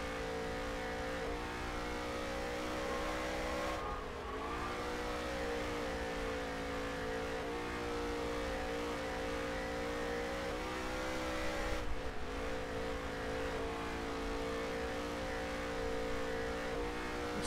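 Race car engines drone steadily on a track, a continuous buzzing roar at moderate distance with brief dips in pitch as cars ease off, then climb again.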